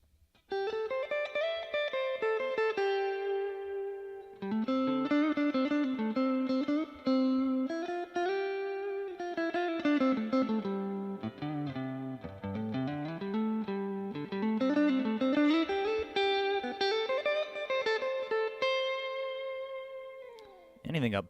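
Electric guitar notes ring out through a Fender Blues Junior amp with reverb turned up high, heavy and washy, each phrase trailing and blurring into the next over about twenty seconds of steady playing.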